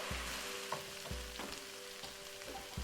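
Lamb meat sizzles and fries in a pan close up as its water cooks off, with a steady crackle and periodic scraping stirs about every second.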